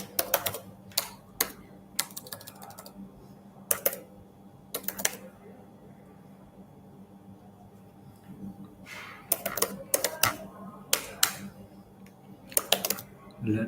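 Code is typed on a computer keyboard in scattered bursts of light clicking keystrokes, some rapid and some spaced apart, over a quiet steady background hum.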